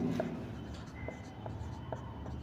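Chalk taps and strokes on a board as a physics teacher writes a rotational motion equation during a class. The marks come as short, faint, scattered ticks under a quiet room.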